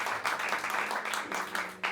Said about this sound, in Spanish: Vamos a darle un fuerte aplauso al Espíritu Santo.